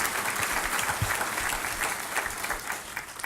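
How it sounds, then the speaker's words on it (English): A crowd at a spring graduate salute ceremony applauds, a dense, even wash of clapping that carries on quietly and steadily for a few seconds. "So please give them a round of applause for the impact that they've had on these young people."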